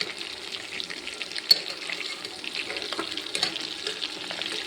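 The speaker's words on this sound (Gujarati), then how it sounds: "થોડી વાર આપણે આવી રીતે ફેરવીએ એટલે મસાલો સરસ પાકી જાય" Spiced brinjal and potato curry being stirred in a hot pan, a steady close hiss of frying with soft scraping and a few faint clicks of the spoon, no voices.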